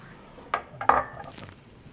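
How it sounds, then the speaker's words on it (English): Ladle knocking against a pot while serving fish chowder, two or three quick close metallic clinks and scrapes over about two seconds, otherwise quiet. "So we're just going to scoop up a couple nice healthy ladles"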